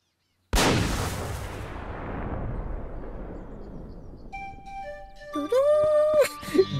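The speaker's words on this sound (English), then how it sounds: "Gunshot goes off." A single sharp gunshot cracks out in a Disney video game and its echo slowly dies away, then bright game chimes and jingly effects play over the tail.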